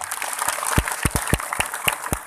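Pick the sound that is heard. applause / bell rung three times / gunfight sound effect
applause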